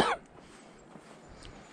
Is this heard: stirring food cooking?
no